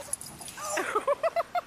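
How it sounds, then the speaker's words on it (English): Playing dogs give a short burst of yips and whimpering yelps, four or five quick high cries in a row, close and fairly clear. "Dogs are playing."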